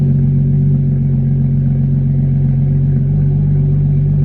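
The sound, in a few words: straight-piped BMW F32 435i exhaust burble on startup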